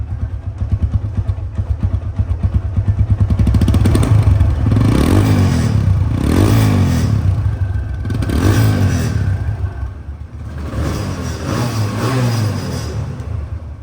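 An RTR 160 2V second-hand motorcycle engine runs close by, its steady clattering idle swelling in repeated revs that rise and fall several times.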